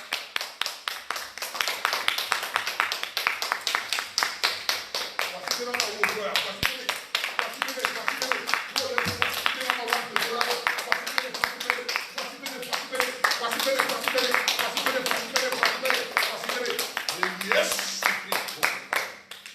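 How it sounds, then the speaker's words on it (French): A church congregation claps in steady rhythmic unison to acclaim the Lord during a prayer service, loud and continuous for the whole span, with voices singing or speaking over it. "Nous allons acclamer le Seigneur."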